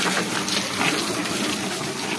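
Water is thrown and splashes steadily while something is washed outdoors, a continuous loud rushing wash with no talk.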